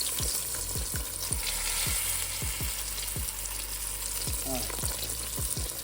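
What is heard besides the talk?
chicken frying in hot oil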